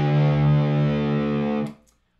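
A single sustained distorted electric guitar note, played as a reference pitch for D standard tuning, rings loud and steady with rich harmonics for about a second and a half before being cut off abruptly.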